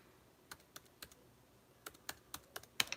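A numeric code is typed on a computer keyboard as a string of about a dozen distinct, close key presses in two bursts separated by a short pause, with no one talking.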